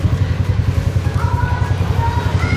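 Motorcycle being ridden, its engine giving a steady, close, pulsing low drone mixed with rushing wind noise throughout, with no talking.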